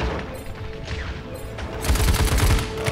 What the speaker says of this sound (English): Oh, yeah, that's a friendly turret.